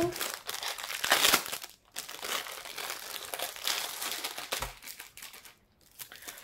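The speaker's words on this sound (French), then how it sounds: "Alors, on va ouvrir cette petite toile." Crinkling and rustling of plastic packaging as a small cloth pouch from a Temu parcel is opened, close and uneven in bursts, with brief quiet gaps between handling noises.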